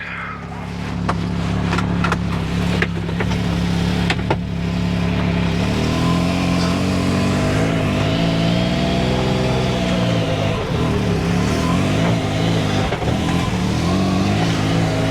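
A Can-Am Maverick X3 side-by-side engine drones steadily on a test ride near a garage, loud and close throughout, with rising and falling revs and occasional clunks from the chassis.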